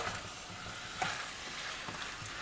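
Potato chunks coated in garlic, chilies and ginger fry in a pan, a steady soft sizzle running throughout with a few stirring scrapes at about one and two seconds, close and fairly quiet.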